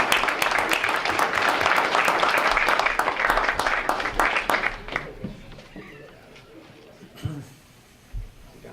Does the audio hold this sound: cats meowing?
no